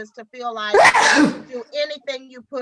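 A single loud sneeze bursts out mid-conversation, close and sharp, with people talking before and after it.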